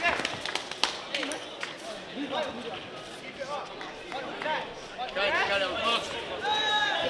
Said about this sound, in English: See some noise from this crowd in support.